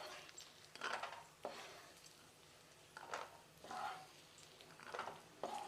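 Cashews fry in ghee in a pan while a spoon stirs them, giving quiet, intermittent scraping and clinking strokes over a soft sizzle, recurring every second or so at low volume.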